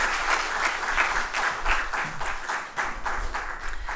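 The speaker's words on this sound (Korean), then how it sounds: "박수 쳐주십시오" Teachers at a retreat clap for two participants, steady hearty applause from a roomful of people lasting the whole stretch, fairly close and loud with a few voices mixed in.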